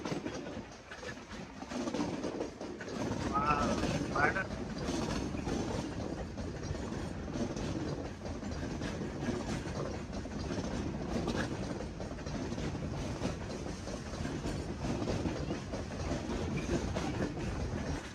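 A train rumbles steadily along the tracks close by, its wheels clattering continuously for the whole stretch with no voices.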